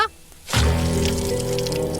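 Water splashes and pours onto something after a quiet moment, a steady sustained rush with a brief dripping start, heard in an animated comedy challenge.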